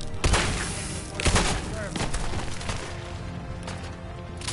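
Bursts of gunfire from a weapon in Fallout 4, two sharp loud shots followed by quieter shots and rumble, close and forceful, with game sounds underneath.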